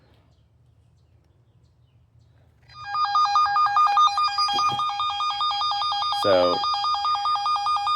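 A wire detector tracing buried irrigation wire gives off a steady, pulsing electronic beep. The tone switches on after about three seconds of quiet and carries on to the end, with a brief spoken word over it.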